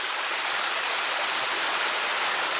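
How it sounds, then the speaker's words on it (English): A small waterfall in a creek rushes in a steady, dense, broadband roar, close and constant with no pauses. "You can make that into like a little hole that you can just sit in and sit right under that little waterfall"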